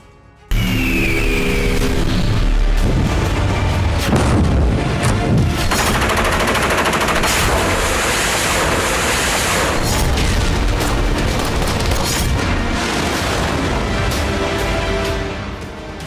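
NATO military exercise with warships, where heavy gunfire and artillery boom and crackle in a loud, dense, continuous barrage, with rumbling blasts and rapid bursts layered over one another.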